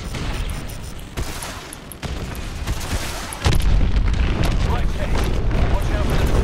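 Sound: missile explosions, video game Call of Duty: Advanced Warfare

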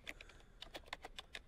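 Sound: typing on a computer keyboard

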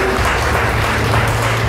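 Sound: audience applause for pageant candidate Diocelis

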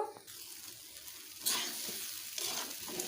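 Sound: vegetables stirred in a pan for dalia khichdi

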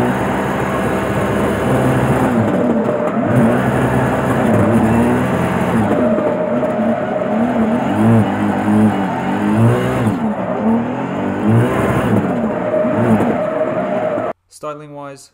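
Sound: turbocharged car engine revving

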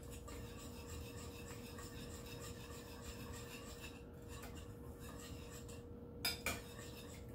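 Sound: stirring a vegetable mixture with parsley in a bowl

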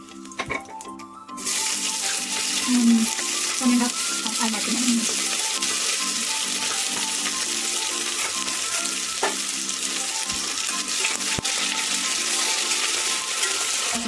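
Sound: chopped onions and spices frying for biryani

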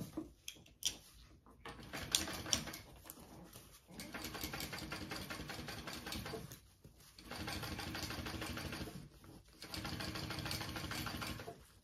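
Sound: sewing machine top stitching a handbag panel

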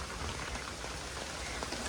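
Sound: light rain falling

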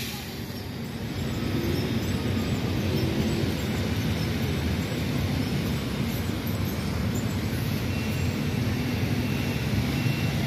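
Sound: small train passing

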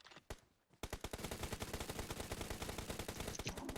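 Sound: Akrep (Skorpion) gunfire in PUBG Mobile video game

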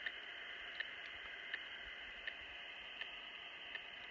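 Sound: radio telemetry receiver static distortion while searching for elk collar

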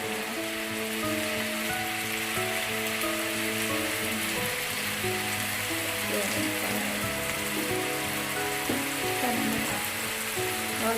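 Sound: stir-frying tomatoes with minced pork in a pan

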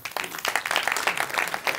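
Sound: audience applause at a conference talk

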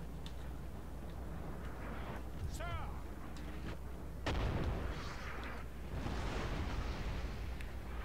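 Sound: artillery fire in video game Napoleon Total War

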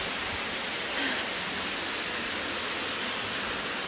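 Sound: heavy rain downpour torrent in Gurzuf, Crimea

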